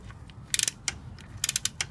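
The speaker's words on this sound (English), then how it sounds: "it looks like you need to use a 3/8 that is a 6-point socket to remove this bottom bolt" A ratchet with a 3/8 six-point socket clicks in short, quick bursts while loosening a bolt on a 42RE transmission bracket, close and fairly quiet, with no talking.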